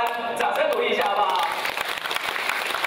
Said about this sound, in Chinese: 还有我们台湾，掌声鼓励一下